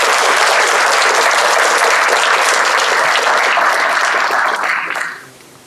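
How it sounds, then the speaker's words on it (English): Audience applause at a school district board meeting, a steady dense clapping that fills the room at full strength before tapering off quickly near the end. "I think we should all give Parker some applause"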